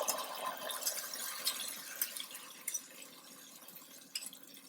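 Besan mixed with water poured into yogurt in a home kitchen, a soft trickling, splashing pour with small bursts of liquid throughout, close and fairly quiet, with no talking.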